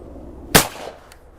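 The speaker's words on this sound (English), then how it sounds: "I'm going to start with the over and under, and I'm just going to shoot a couple of targets first." A single sharp over-and-under shotgun blast at a clay target field, loud and close, with a short decaying tail and nothing else audible.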